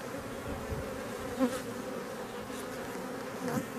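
Honeybees buzz steadily at an opened beehive during a frame check, a dense, close hum with a couple of brief louder passes as individual bees fly near.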